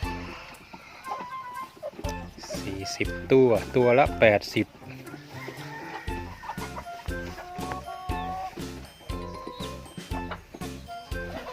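Laying hens on a small farm clucking close by, repeated short calls with an occasional louder squawk, heard alongside someone talking and loud rhythmic music.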